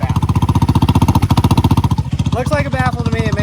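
Loud, close idle of a Grom motorcycle swapped to a 250cc engine, its baffled exhaust chugging in a fast steady pulse before the note shifts and a voice cuts in over the engine.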